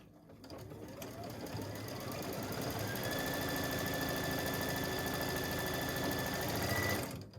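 Sewing machine stitching fabric pieces for a baby block quilt, a steady fast mechanical whir and rattle running continuously at close range, with no talking over it.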